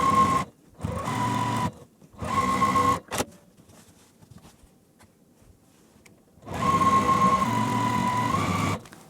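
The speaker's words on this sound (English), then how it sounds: "So I'm going to go ahead and just sew 1/4 inch" A sewing machine stitches a quarter-inch seam on a layer cake quilt in loud, steady whirring bursts, stopping and starting several times with a quiet pause of fabric handling between runs.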